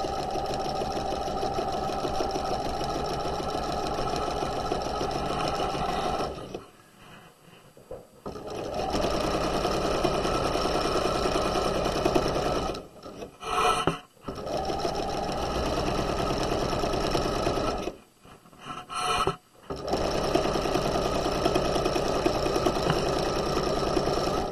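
A sewing machine stitches the side seam of a pair of pajama pants in long, loud, steady runs, stopping briefly three times before starting again.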